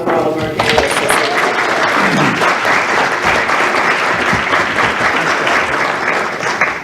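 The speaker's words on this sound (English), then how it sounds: "Let's have a round of applause for all of our candidates." Loud, sustained audience applause after a magistrate candidates' forum, a dense continuous roar of clapping that stays even throughout, with a voice heard briefly at the start.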